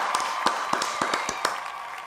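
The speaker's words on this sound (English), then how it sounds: "So a big round of applause for him as well." Applause from a few people, a sparse scatter of sharp hand claps at an uneven pace, fairly close and moderately loud, with no voices.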